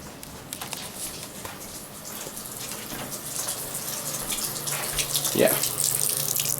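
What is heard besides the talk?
bathroom tap running a full stream of cold water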